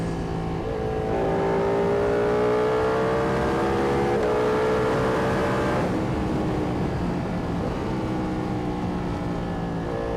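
A Ducati Panigale V2 motorcycle in race mode revs hard and pulls through the gears, its engine note climbing steadily, then dropping at a shift and rising again, loud and close throughout.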